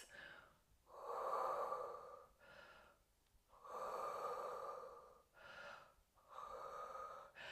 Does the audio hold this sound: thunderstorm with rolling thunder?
no